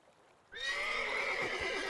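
A horse in The Witcher 3: Wild Hunt lets out a loud, close whinny that starts suddenly after near silence, with a couple of soft hoof thuds underneath.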